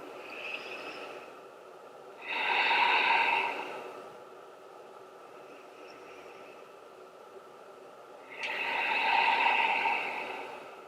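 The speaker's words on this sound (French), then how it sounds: "Faites encore 2 respirations." Two slow, deep breaths taken during a quiet yin yoga session, each a soft, airy inhale-exhale lasting about two seconds, separated by several seconds of near silence; no talking.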